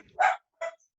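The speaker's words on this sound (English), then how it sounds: "Whose pup is that?" Puppy barking indoors, two short, sharp yips close by with a brief gap between them.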